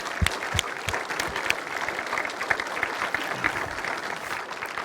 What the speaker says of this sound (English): Maybe an applause for them.